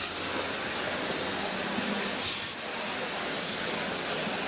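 Steady hiss of water spraying from a car-washing hose nozzle set to a mix of flow and pressure, running on house water pressure, constant and fairly loud with a brief dip in the middle.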